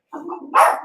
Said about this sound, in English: you might hear my dog barking right there.